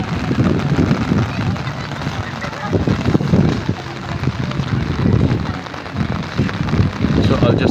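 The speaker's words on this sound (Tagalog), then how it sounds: "according to my childhood friend Pinky, this is the first time that they had encountered heavy rain during the procession at the heart of the ocean" Heavy rain at sea during a boat procession, a dense, continuous wash of downpour close by with voices talking underneath.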